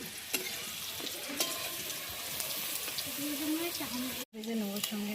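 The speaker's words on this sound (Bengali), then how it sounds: "অলরেডি আলুটা ভাজা হয়ে যাক" Potato pieces frying in a kadai of hot oil, a steady close sizzle with stirring scrapes throughout, a brief cut near the end before the frying resumes.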